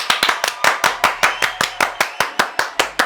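Applause for Lee from a small group, a few hands clapping loudly and close in a quick, fairly regular rhythm, with no voices over it.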